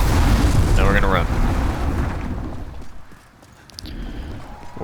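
Red dragon in Demon's Souls breathing fire: a loud, deep rushing roar with rumbling low end, fading out over a few seconds, then quieter flame crackle and background game noise.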